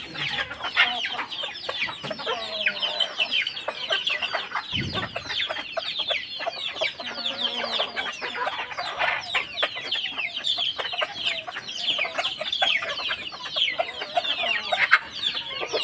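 Multicolour roosters and hens, a pure-bred flock brought from Mumbai to the Konkan coast, cluck and chatter busily and continuously at close range, with dense overlapping calls and no talking.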